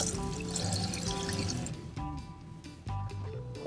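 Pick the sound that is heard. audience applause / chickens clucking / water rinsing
water rinsing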